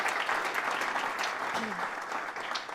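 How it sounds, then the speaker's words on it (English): Audience applause for a presenter at a pitch event, a dense steady clatter of many hands, with a voice faintly heard under it. "One more round of applause for Greg, because amazing job"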